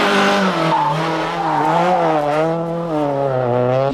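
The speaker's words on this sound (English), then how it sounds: "The note from the 2-litre normally aspirated engine is glorious, and with a liberal application of the handbrake" Renault Megane Maxi rally car with a 2-litre normally aspirated engine, roaring at high revs with sweeping pitch changes and tyre scrub during a handbrake slide on a 1996 rally stage, loud and close.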